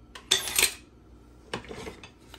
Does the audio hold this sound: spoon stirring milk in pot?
yes